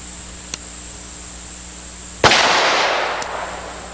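A single sharp pistol shot fired with .45 ACP-type ammunition cracks loudly at close range, followed by a broad noisy decay that rings out for about a second, with a faint click before and after.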